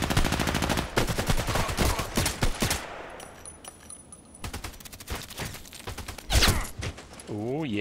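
Silenced gunfire in the first-person shooter Contract Wars, heard as rapid, dense bursts of suppressed shots in quick succession, loud and close, broken by a brief lull before more shots and mechanical clicks. No one speaks.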